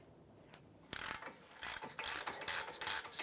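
A ratchet with an 18 mm socket loosens the lower caliper bracket bolt on a 2015-2020 Cadillac Escalade, fast close clicking bursts after a brief quiet start.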